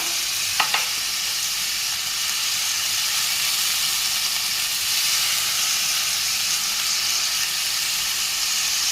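Tomato paste hits a hot pan and sizzles loudly while cooking a chital fish curry, a steady bright hiss with a brief clink early on, continuing close and unbroken throughout.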